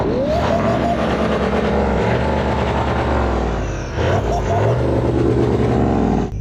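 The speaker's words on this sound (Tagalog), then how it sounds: "yung tambutso sa ilalim niyan may cutout valve ito." A car engine rumbles and revs loudly nearby through a throaty exhaust with a cutout valve, swelling and dropping, with voices talking over it.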